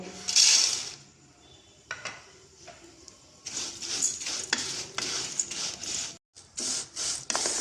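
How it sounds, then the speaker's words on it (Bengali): Vermicelli fries in melted ghee in a kadai for simui payesh. Bursts of crackling sizzle come and go with intermittent scraping and clatter of a utensil against the pan, at close range with no speech. "ঘিটা গলে গেলে আমি সিমুইটা ভেজে নেব।"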